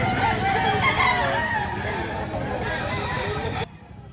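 Roosters crow amid the steady hubbub of a busy chicken market in Lipa, Batangas, the calls blending into a dense, constant wash of birds and crowd noise that cuts off abruptly near the end.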